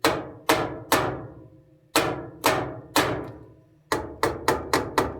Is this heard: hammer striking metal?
yes